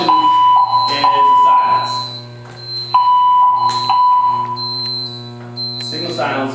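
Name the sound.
fire alarm system sounding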